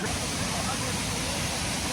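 Khun Puai waterfall in Mae Wang, Chiang Mai, makes a steady, broad roar of falling water that fills the whole stretch without a break, with voices faintly present.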